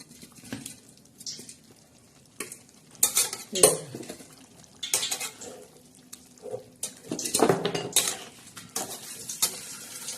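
A spoon stirs vajdi curry with yellow masala in a pan, scraping and clinking against the metal in irregular close strokes, with soft sizzling between.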